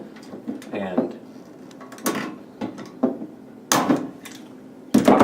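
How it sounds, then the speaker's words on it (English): Pop rivets being set to attach a metal handle, a series of sharp metallic snaps and clunks spaced about a second apart, close and fairly loud, with a person talking in between. "Get your pop rivet in"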